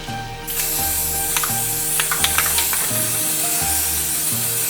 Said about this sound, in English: spray paint the other half of the ovals heirloom white